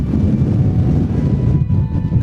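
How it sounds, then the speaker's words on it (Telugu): Strong, heavy wind buffets the microphone on a hilltop at Mahendragiri, a loud continuous rumbling roar for a couple of seconds with no voices. "గాలి ఎలా వేస్తుందంటే వెనక్కి తోసేస్తుంది నన్ను, అంత హెవీ గాలి"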